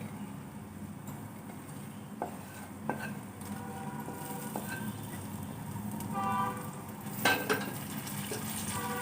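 Raw prawns fry with onions, mustard seeds and curry leaves in a pan, sizzling steadily up close while a utensil stirs and scrapes with occasional clinks.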